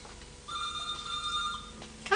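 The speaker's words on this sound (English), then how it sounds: "Oh, it's the phone." An indoor telephone rings in a domestic room, a bright electronic trill with a steady repeating tone for over a second, moderately loud and close, with a short burst of another sound at the end.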